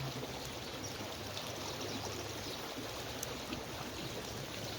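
Water flows steadily along a stream, a soft continuous rushing and trickling wash heard close by and fairly faint, with no talking over it.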